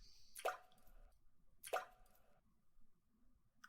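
Two distinct water drops fall about a second apart, each a sharp, resonant plop with a short ringing tail, close by in a humid, otherwise quiet space.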